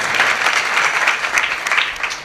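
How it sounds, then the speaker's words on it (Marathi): Audience at a kirtan gathering clapping, a dense, continuous burst of many hands applauding, loud and close for a couple of seconds, with no speech over it. "त्यांच्यासाठी एकदा जोरदार टाळ्या वाजवायच्या।"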